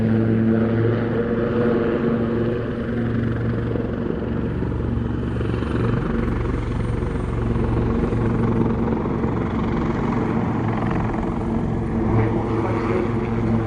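At an air show, a display aircraft flies overhead with a loud, continuous engine drone and rotor-like hum that holds steady and close.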